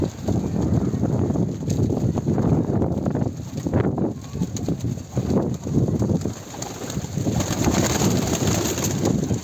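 Pigeons coo in soft, low throaty bursts amid rustling and fluttering, close by, with steady background noise throughout.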